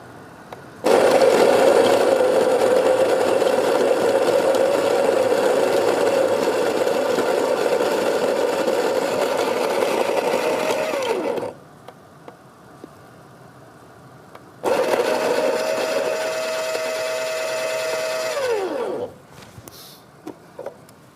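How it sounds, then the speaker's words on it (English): A Baratza Virtuoso Plus coffee grinder runs loudly on beans with a steady motor whine for about ten seconds. After a brief pause, a second shorter burst grinds on and then winds down, with no talk over it. "Put them in the grinder. This wonderful Baratza Virtuoso Plus grinder."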